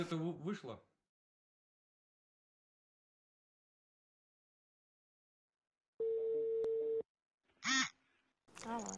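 A telephone call tone sounds as a steady single-pitched tone for about a second, heard after a long silence and followed by brief bursts of talk.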